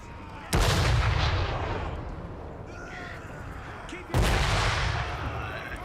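Cannons in the Total War: Warhammer 3 battle game fire two heavy booms several seconds apart, each followed by a long rumbling decay over steady battlefield ambience.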